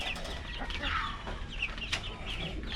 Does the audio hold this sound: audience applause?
no